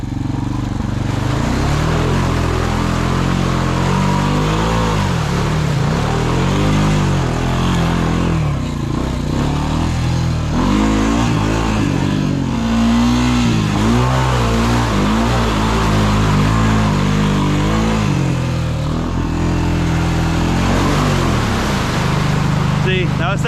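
An old Honda four-wheeler churns through a deep mud hole, its engine loud and close as it revs, bogs and surges in waves throughout, with a voice talking at times over the roar.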